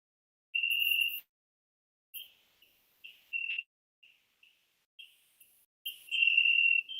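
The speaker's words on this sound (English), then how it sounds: "I wonder if these cricket sounds are" Crickets chirp in short bursts and longer trilling runs, with irregular gaps of silence between them, fairly close and clear.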